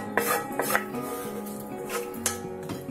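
A utensil scrapes and clinks against a pan while sautéed mushrooms for a quiche are mixed, giving several sharp metallic knocks over a soft steady stir, close and fairly loud, with no voice.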